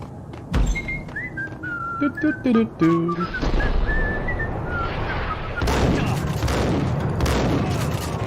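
Shotgun blasts from the video game Max Payne boom in a loud barrage over whistling effects and a continuous roar of game action.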